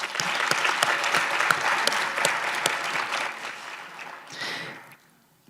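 A graduation ceremony audience breaks into brisk applause with sharp individual claps standing out of the crowd sound, then the clapping thins and dies away to near silence at the end.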